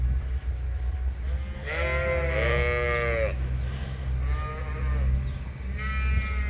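Sheep on a farm, flock of ewes due for shearing, give a couple of loud, drawn-out bleats nearby over a steady low rumble of background machinery.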